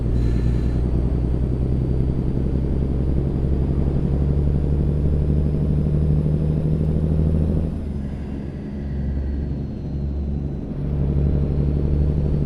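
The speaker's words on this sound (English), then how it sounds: "Engine sound for this truck, which is the N14." A truck's N14 engine in American Truck Simulator drones with a loud, steady low rumble that briefly eases and dips around the two-thirds mark before returning, with no talk.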